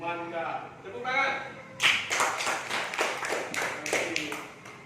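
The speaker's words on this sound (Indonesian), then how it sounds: "Tepuk tangan." Schoolchildren in a Quran reading classroom break into a burst of rhythmic group clapping after a teacher speaks, several firm claps in a quick pattern following a stretch of speech.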